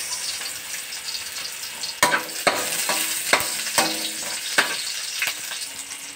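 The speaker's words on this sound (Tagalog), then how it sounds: "gisa na natin yung ating mga ricado. Kaya na natin yung sibuyas" Aromatics and onion sautéing in a pan for guisadong ampalaya, a steady close sizzle broken by sharp scraping stirs, with no talking.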